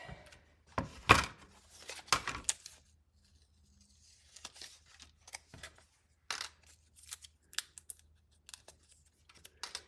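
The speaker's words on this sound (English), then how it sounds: "Cutting out the other frame too while I'm over here." Scissors cutting out a cardstock paper frame, a series of crisp, close snips and paper rustles spaced irregularly with quiet gaps between them.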